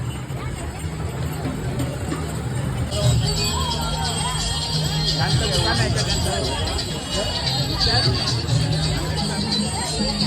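A dense crowd murmurs at a village temple fair, a continuous wash of overlapping chatter and hubbub. A nearby voice talks over the babble throughout.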